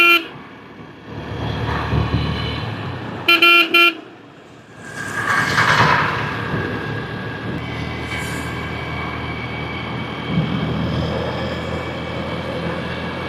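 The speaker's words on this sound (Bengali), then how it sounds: "দেখুন এটা রাস্তা, নীলগঞ্জের রোড, সকালের সময় কিরকমটা।" Morning traffic on Nilganj road, a steady roar of passing vehicles broken by a loud close car horn blast and fainter honks further off.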